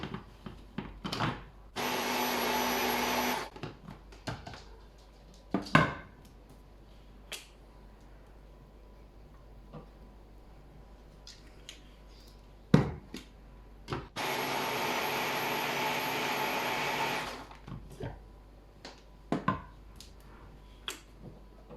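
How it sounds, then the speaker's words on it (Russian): Kitchen blender whipping egg and vegetable oil into homemade mayonnaise, two loud steady whirring bursts of a few seconds each, separated by quieter clicks and knocks. "Далее мы добавляем понемногу растительное масло и каждый раз перебиваем."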